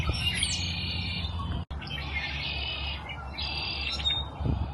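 Songbirds call outdoors along a river trail beside the Platte River, with repeated high chirping phrases in bursts over a steady background hush, close and clear, no talking.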